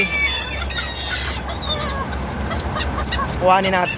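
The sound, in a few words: bantam chickens clucking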